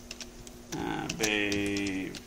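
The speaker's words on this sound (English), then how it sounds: "If I start typing" Computer keys are tapped in short bursts while a street address is entered into a ReactJS app search field, with someone speaking over the typing.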